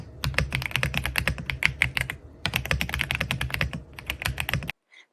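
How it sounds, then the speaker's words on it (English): Rapid clacky keystrokes typed steadily on an RK Royal mechanical keyboard with Silver Pro switches, close up, with a short pause midway and a final stop. "It comes with the Silver Pro switches, and I absolutely love the sound of these switches."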